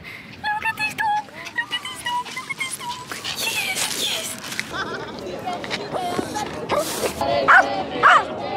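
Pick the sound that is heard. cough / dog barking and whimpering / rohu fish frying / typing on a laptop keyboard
dog barking and whimpering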